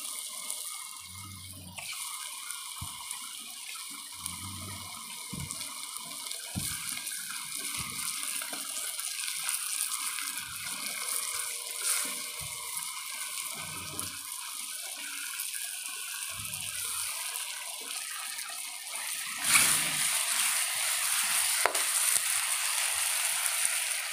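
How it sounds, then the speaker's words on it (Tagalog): Tap water runs steadily into a cooking pot of chicken gizzards, a continuous close hiss and gush lasting throughout, with a brief louder surge near the end and faint low clunks underneath. "ngayon naman maglalagay ako ng water"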